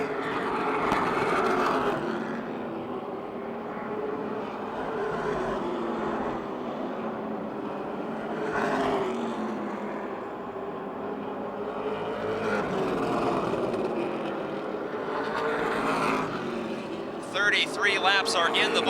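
Chevrolet NASCAR Super Late Model race cars battle for the lead during a night feature at Motordrome Speedway, engines droning and rising and falling as they sweep around the track at a distance, under continuous commentary.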